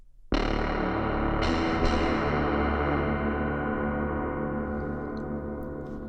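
A sharp, loud onset blooms into a long, dense convolution reverb tail that slowly decays over several seconds, with a couple of brief bright flickers near the start.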